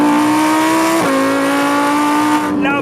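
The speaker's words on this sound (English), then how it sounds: "Love the sound of a V10." A Lamborghini Huracan Performante's V10 engine and exhaust scream at high revs, loud and close, with a sustained wail that dips briefly at a gear change and then climbs again.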